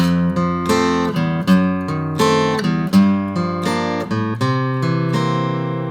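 A guitar plays a short turnaround passage of plucked notes and chords from a song, each attack ringing out in a steady rhythm, clear and close, no talking.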